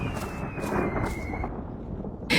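Heavy rain with thunder rumbling in a cartoon storm scene, a steady dense downpour roar throughout with a faint high tone fading, then a sharp bright crack at the end.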